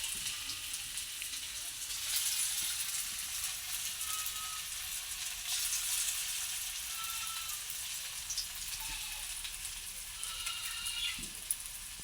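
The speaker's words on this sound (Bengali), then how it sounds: "এই যে দেখুন, পকোড়াগুলো অলমোস্ট লাল লাল হয়ে যাচ্ছে। কড়াইটা খুব হিট হয়েছে।" Pakoras fry in oil in a very hot wok, giving a steady, fairly faint sizzle that carries on without a break and has no voices over it.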